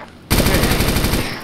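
Rapid machine gun fire in the DayZ Epoch video game, a loud close burst of evenly spaced shots that starts abruptly and runs continuously.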